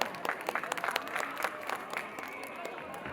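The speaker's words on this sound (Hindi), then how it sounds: "एक बार जोरदार ताली बजाइए इनके लिए" An audience at a Holi Milan gathering applauds, a fairly faint spread of scattered hand claps with background chatter and a voice over the crowd.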